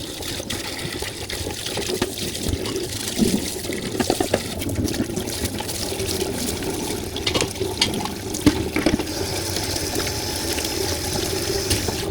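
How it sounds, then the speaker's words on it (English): Water runs steadily from a tap into a steel kitchen sink being rinsed during cleaning, a continuous splashing, trickling rush close by with no talk. "I'll just run some more water in there so I can show you again."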